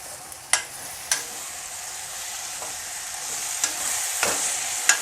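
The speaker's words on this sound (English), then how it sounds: "Now we are adding the tomatoes to this. And stir it nicely." Tomatoes frying in a pan for an eggplant dish, giving a soft, steady sizzle with several sharp scraping clicks from stirring spaced every second or so, fairly quiet and close.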